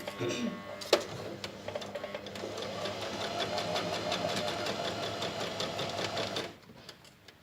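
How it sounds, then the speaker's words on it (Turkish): A sewing machine stitching a buttonhole runs in a steady, rapid mechanical whir for about six seconds before stopping abruptly, with a sharp click near the start. "Eğer itmezsem onu o şekilde yerinde sayar ve devam etmez makine. Bir daha açıyorum."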